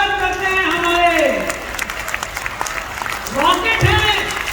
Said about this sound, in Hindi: जोरदार तालियों से स्वागत करते हैं